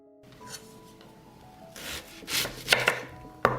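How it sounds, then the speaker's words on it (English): Knife chopping onion and celery for a vegetable soup, a few sharp board taps building toward the end, with softer rubbing and scraping in between, close and without talk. "I will cut 1 onion and 2 sticks of celery."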